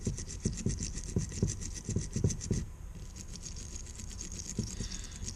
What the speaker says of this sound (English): getting those brush bristles down in there